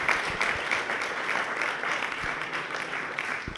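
An audience claps for a startup founder presenting a business-contact search tool at a sales event, with steady applause and a few sharper individual claps standing out, fairly close and moderately loud.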